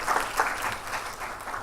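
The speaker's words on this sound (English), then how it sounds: "Let's give me a clap, please." An audience claps together at a startup funding event, a brief burst of dense, fairly close applause that holds steady throughout.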